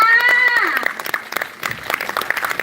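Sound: audience applause congratulating students at award ceremony

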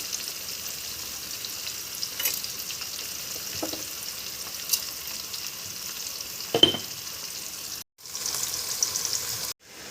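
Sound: field beans sautéing in pan

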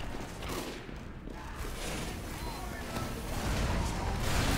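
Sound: rocket launcher fire in video game Team Fortress 2

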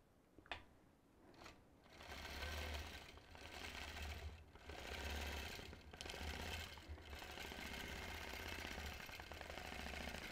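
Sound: quilting sewing machine stitching

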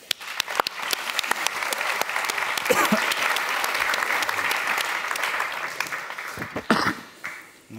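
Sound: applause

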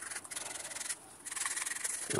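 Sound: roughening underside of leather shoe for rubber sole

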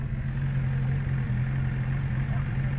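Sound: Suzuki Bandit motorcycle engine with Yoshimura exhaust

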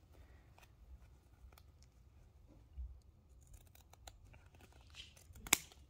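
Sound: scissors cutting diagonally for a candy cane wreath

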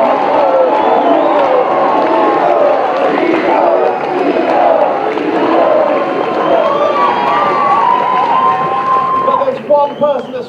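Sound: studio audience applause and cheering

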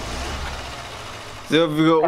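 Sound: car engine idling in the video game A Dusty Trip

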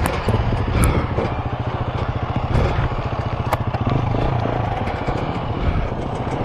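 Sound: dirt bike engine on trail ride

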